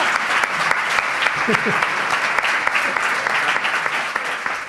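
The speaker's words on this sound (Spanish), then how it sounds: "un aplauso para Jesús" Audience applause fills the whole stretch, dense steady clapping from a crowd with a few voices rising briefly under it.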